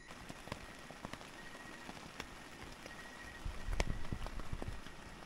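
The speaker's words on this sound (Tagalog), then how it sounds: "Nagising ako sa ulan guys." Rain at a campsite at night, around 1 AM in Laiban, Tanay, Rizal, patters steadily on a surface with scattered sharp drips, growing slightly heavier and fuller near the end, quiet and close.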